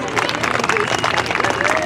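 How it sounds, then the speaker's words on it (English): A crowd at a winged sprint car race night applauds and cheers in a dense, continuous wash, with a voice talking over it. "Give a big hand, Sawyer Lind."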